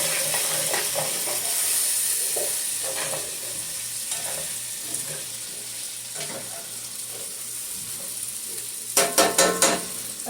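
Coated food in a pan is stirred over a continuous frying sizzle, with intermittent scraping strokes and a quick burst of rattling utensil scrapes near the end, close up and without talk.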